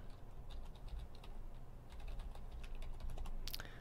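Soft, quick keystrokes on a computer keyboard tap out a password in an irregular run of light clicks, faint and close, with a louder tap near the end.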